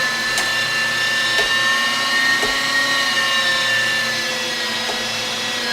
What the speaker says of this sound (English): getting the moose meat through the grinder the first time